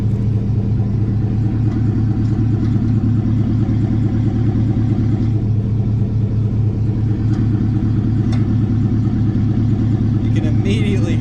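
A car's exhaust note through an exhaust tip, a steady deep droning rumble of the engine running, loud and close, with a brief clatter near the end.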